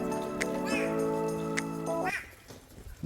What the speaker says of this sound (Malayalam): ഇതൊരു പക്ഷി കരയുന്നു.